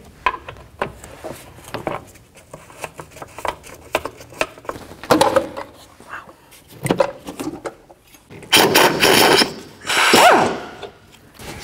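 A ratchet removes the air box bolts on a 1997-2004 Dodge Dakota, giving close clicking bursts and light metallic handling noises, with two louder ratcheting stretches near the end.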